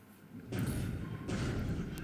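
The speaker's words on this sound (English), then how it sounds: "So there was a lucky hit with a Mark 14 torpedo and with explosion." A Mark 14 torpedo striking a ship in the naval wargame War in the Pacific, heard as two heavy, muffled explosion thuds in quick succession, loud and close.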